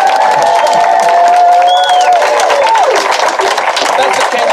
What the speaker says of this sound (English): let's, by clapping our hands and shouting, let's have Pastor Douglas come and minister to us